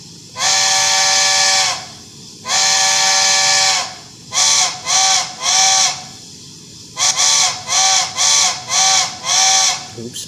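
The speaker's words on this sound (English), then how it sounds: "Alamo, Michigan plant whistle." An Alamo, Michigan plant whistle sounds from a Bachmann K4s streamlined HO-scale model train as two long blasts followed by a run of short, rapid toots, loud and close, with no voices.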